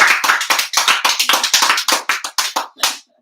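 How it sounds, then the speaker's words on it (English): Scattered hand clapping from a small audience at a school band awards banquet, a few dozen uneven claps over about three seconds that thin out toward the end, close and fairly loud with no talking. "Please, round of applause"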